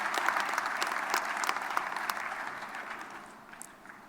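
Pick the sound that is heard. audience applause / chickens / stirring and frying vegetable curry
audience applause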